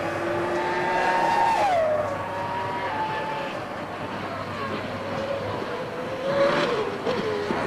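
Verstappen's Formula One car at the 2003 Canadian Grand Prix qualifying whines at high pitch, shifting as it passes along the track and over the kerbs, with a continuous roar and no one talking.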